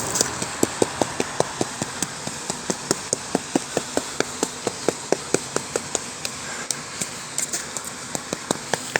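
Steady, regular knocking on blown render on a gable end wall, each tap sharp and close, repeated about twice a second with a slightly hollow ring and no voices.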